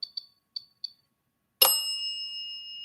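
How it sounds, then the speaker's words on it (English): An electronic bell in a reportedly haunted house sounds four short faint chimes, then after a pause one louder bright ring that hangs and slowly fades, with no talking. "the goddamn dead bell is going cockeyed"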